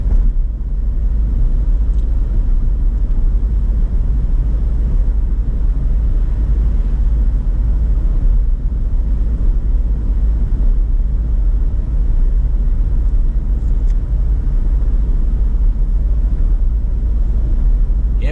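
Steady, loud road rumble inside a car cruising the M-13 highway in Michigan, a continuous low engine and tire drone with no clear voices over it.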